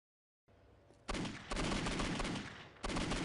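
Rapid automatic gunfire from a video game: after a brief quiet start, a loud, continuous stream of close shots runs in long bursts with short gaps between them, and no one speaks.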